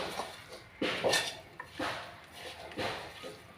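A metal cooking pot is shifted in a home kitchen while chicken curry is being made, with several separate scraping clanks and clinks of metal on metal, close by and spaced apart, and no talk.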